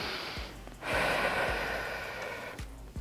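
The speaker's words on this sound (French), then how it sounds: "On se prend une bonne respiration." A single deep, drawn-out inhale during a core mobility and strengthening workout, close to the microphone, with a few soft low thumps in the background and no talking.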